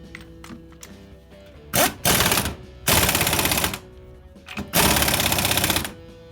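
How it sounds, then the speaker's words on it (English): Impact wrench tightening the alternator pulley nut on a Dodge B350 Ram van, several loud, close rattling bursts, each lasting about half a second to a second, separated by quiet pauses. "put the new nut back on with the old pulley, hit it with the impact wrench"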